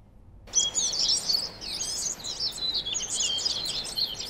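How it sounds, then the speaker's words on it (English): Designed ambience of many birds chirping and tweeting in a tree, a dense overlapping chorus of high calls that starts abruptly after a brief silence and continues steadily without talk. "Of birds in a tree."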